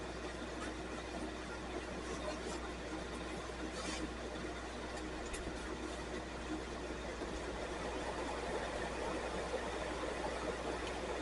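Wood lathe spinning a segmented wood bowl held in cold jaws, a faint, steady motor hum with a low drone and a few light ticks throughout.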